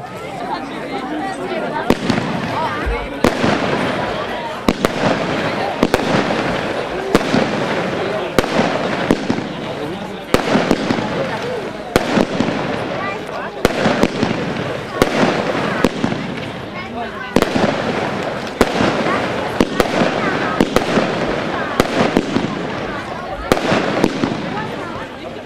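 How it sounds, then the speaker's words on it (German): A consumer firework cake fires a long sequence of sharp shots launching strobe star bouquets, loud repeated reports at a steady pace, each bang followed by crackling, with people chattering and commenting between bursts. "25 Schuss Blinkstern-Bouquets, Medaillensternen"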